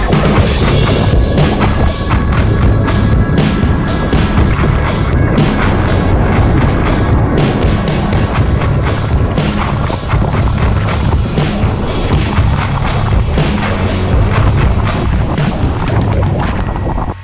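Large wave breaking at Pipeline and sucking a longboarder over the falls, a loud continuous roar of crashing whitewater with heavy rumbling and gusting wind buffeting throughout.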